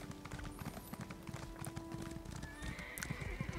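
Horse hooves clip-clop in a quick steady rhythm while riding in the video game Elder Scrolls Online, close and clear, with a whinny near the end and no talking.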